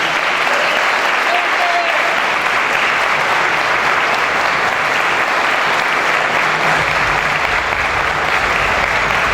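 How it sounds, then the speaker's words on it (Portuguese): A large audience in Maringá gives sustained, loud applause during an award ceremony honoring judge Sérgio Moro, a thick, unbroken roar of clapping with faint voices mixed beneath. "Uma salva de palmas para este momento"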